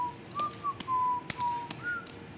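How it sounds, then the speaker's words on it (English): Someone whistles a thin, wavering tune at a poker final table, with sharp clicks of chips breaking in between. "See the whistling I told you earlier."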